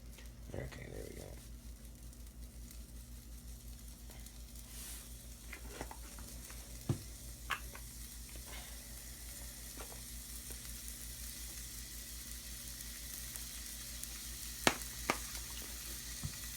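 Steak seasoned with salt and paprika frying in a pan, a steady low sizzle running throughout with a few faint pops and clicks, quiet and close.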